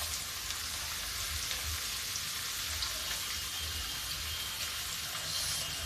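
Homemade potato chips frying in hot oil in a home kitchen give a steady, close, crackling sizzle that hisses evenly throughout, with no voices.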